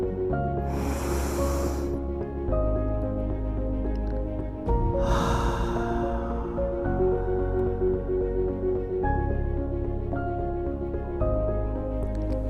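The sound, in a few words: deep inhale during breathing exercise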